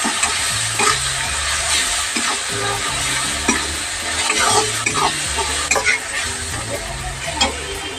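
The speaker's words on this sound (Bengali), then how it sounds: "সব মশলা দিয়ে আমরা কষিয়ে নেব।" Chicken frying with chili powder and spices for a Bengali chicken jhol, a loud continuous sizzle with repeated scraping and knocking of a spatula against the pan, close up throughout.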